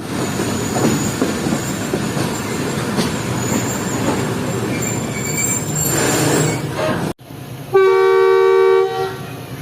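Jaffer Express train pulling out of Wazirabad Junction station after a short stop, loud rumbling and squealing wheels on the rails, then a long sustained horn blast that sounds alone near the end.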